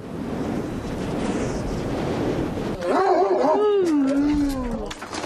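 A dog barks and whines near wind turbines at a wind farm in Turkey, its voice rising and falling over several seconds after a stretch of loud wind rumbling across the microphone.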